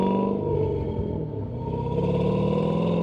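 A Chevy LS V8 swapped into a Porsche 944 growls and revs from the exhaust, a deep, loud, sustained rumble with a slight dip midway before swelling again, heard up close with no talking.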